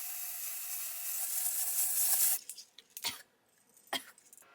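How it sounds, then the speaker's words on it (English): An aerosol can of medium dark brown lace tint, a steady close hiss of spray for about two seconds, then a few short rattling shakes of the can. "I'm gonna shake it up and then just spray it directly on the lace."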